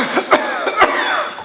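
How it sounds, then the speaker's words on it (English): A few sharp, deliberate coughs in quick succession, loud and close, with no talking. "Cough it out, like that."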